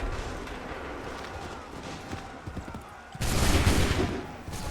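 A gunfire volley in the video game Assassin's Creed III: crackling musket shots amid battle noise, with a sudden louder burst of massed fire toward the end.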